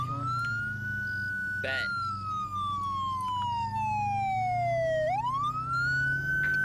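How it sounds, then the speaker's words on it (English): An emergency vehicle siren wails loud and close, a long descending tone that swoops back up, over a low engine rumble with a brief spoken word. "There's siren still on."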